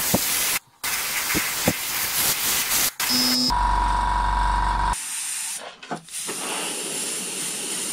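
Spray paint hisses in close, loud bursts as a coat goes onto a Kyosho Pegasus RC car body, with short gaps between sprays and a tonal, buzzing stretch midway.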